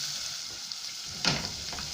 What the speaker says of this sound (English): Now we want to fry our onions until they've softened a little bit